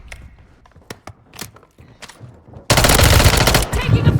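Call of Duty Rebirth Island gameplay, in which a few scattered footsteps and light impacts lead into a sudden loud, sustained burst of automatic gunfire that runs for about two seconds.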